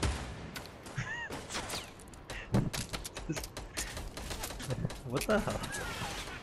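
Gunfire in Fortnite comes as scattered sharp cracks and short bursts of shots, fairly loud and irregular, mixed with game effects while a voice talks over the action.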